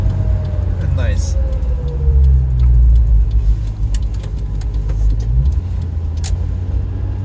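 A 1997 Subaru Sambar Dias II supercharged van driving, with a steady low engine and road drone that rises and falls through a gear change, heard from inside the cabin.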